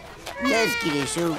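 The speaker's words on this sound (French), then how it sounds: "c'est le chat de Titeuf." A cartoon cat meows in short, rising-and-falling calls, repeated three or four times in quick succession, sounding over a voice speaking French.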